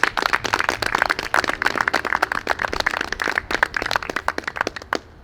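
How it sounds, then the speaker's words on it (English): An audience at a black belt martial arts testing event claps, a dense patter of handclaps at moderate distance running steadily for several seconds with no speech. "Can we give all of these people a round of applause for their help?"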